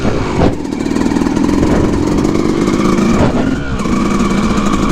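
A dirt bike engine drones steadily and close while riding up and down a trail, with a humming buzz and a couple of brief throttle dips, and no talk over it.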